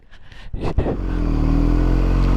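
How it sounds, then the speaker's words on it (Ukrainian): Oncoming motorcycles speed past on a winding Albanian mountain road, a rising engine roar that builds after a brief whoosh and holds loud and steady to the end. "на зустрічі йдуть мотоциклісти з такою скоростю, що просто жесть"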